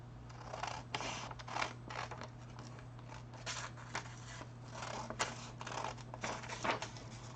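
Scissors snip paper from a RoLife Nancy's Bake Shop DIY miniature kit in a quick series of close, crisp cuts. The cutting is quiet against a steady low hum.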